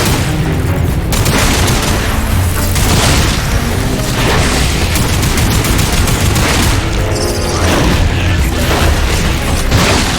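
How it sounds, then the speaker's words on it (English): Dense gunfire rages in the sci-fi shooter Lost Planet 3, heavy booming shots and rapid bursts packed tightly together with no letup. Loud and close throughout, with brief explosive peaks. "Some shooting there."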